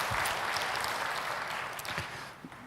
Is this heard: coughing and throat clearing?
no